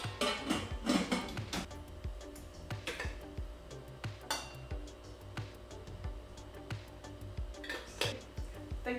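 A small pot is handled in a home kitchen while preparing to dissolve soda for natural fabric dyeing. Close metallic clanks and knocks come in irregular bursts, the loudest early on, with clinks and rustles between and no talking.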